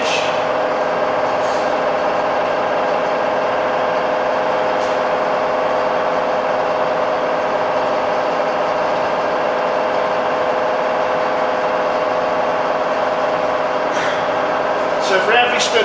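A rebuilt Bridgeport milling machine runs with a steady, even motor hum that holds for the whole stretch, with a few faint clicks and rattles near the end.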